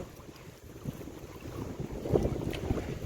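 Steady gusting wind buffets the microphone outdoors beside a river, a low rumbling roar that swells toward the end, with faint water noise beneath.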